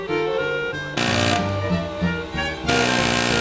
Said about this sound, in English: This thing is so tight, we're having to go for an air chisel.